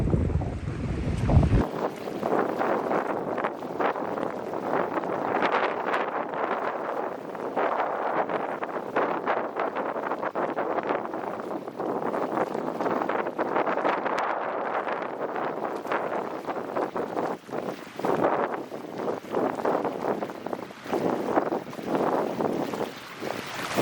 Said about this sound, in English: as you can see, it's extremely windy out here